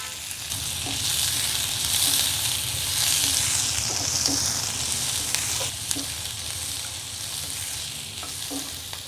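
Onion, garlic and curry leaves frying in a pan, a continuous close sizzle with repeated scraping stirs and light clicks throughout, no voices.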